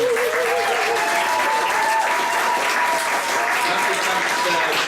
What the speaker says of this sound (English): Maybe a round of applause for Kathleen